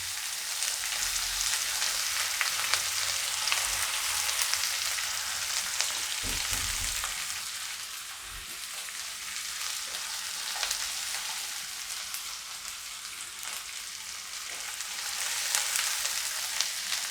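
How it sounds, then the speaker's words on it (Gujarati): Onions frying in a pan for Indori poha, with a continuous close, loud sizzle and crackle that keeps going throughout, with no voices. "હવે ડુંગળી આપણે થોડી વાર પાકવા દઈએ"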